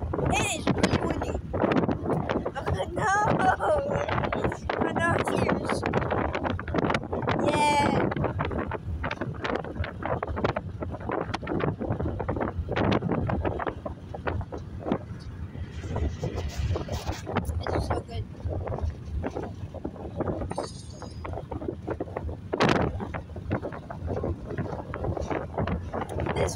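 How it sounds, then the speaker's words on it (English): Strong outdoor wind buffeting the microphone, rough low rumbling gusts that swell and fade throughout while people talk over it. "It is really windy."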